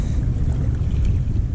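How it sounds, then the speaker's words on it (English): Strong wind roars and buffets the microphone out on the water along Florida's Nature Coast, a loud, steady low rumble with no talk. "And this wind's already rocking."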